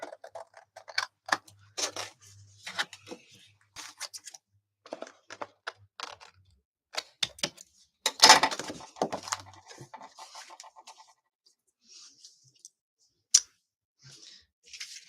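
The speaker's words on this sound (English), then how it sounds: "And then I always flip it over and trim all this off." Excess paper trimmed off a wallpaper stencil card project, a close series of scattered snips, crinkles and paper rustles in short irregular bursts with quiet gaps and one louder crackle midway.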